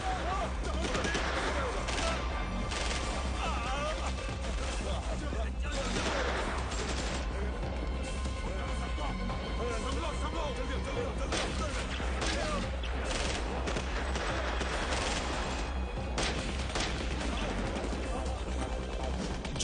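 Dense, continuous gunfire crackles through a film battle scene, with rapid overlapping shots and bursts layered over a busy, noisy soundtrack and voices shouting in Hindi.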